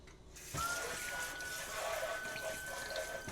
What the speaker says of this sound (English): it makes the hot water flow to the sink faster